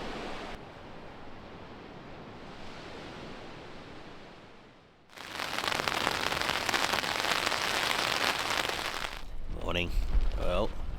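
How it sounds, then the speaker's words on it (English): Rain falling on a campsite at night: an even, soft patter at first, then after a brief dip a louder, denser downpour that keeps going to the end, with a voice briefly speaking near the close. "last night it rained. It rained a lot and it rained consistently"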